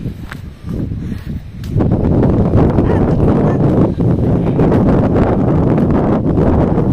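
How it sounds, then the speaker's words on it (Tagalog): A dense, roaring wash of heavy rain and gusting wind, loud and continuous after a brief quieter start, buffeting the microphone. "Grabing ulan."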